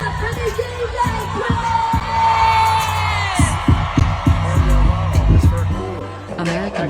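A concert crowd roars, cheers and whoops in a large venue, loud and sustained for several seconds, with shouts and yells rising above the din.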